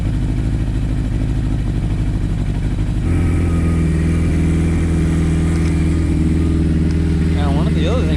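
A 1981 Suzuki GS1000GL motorcycle engine runs just after a cold start with the choke held out, a loud steady throbbing idle that deepens partway through and then holds, alone without talk.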